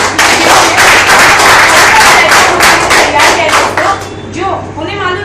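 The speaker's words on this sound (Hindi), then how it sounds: "डॉक्टर साहब के लिए तहे दिल से जोरदार तालियां चाहूंगी" A live audience in a hall applauds a doctor with loud, sustained clapping that fills the room for about four seconds, then thins out into scattered claps and murmuring voices.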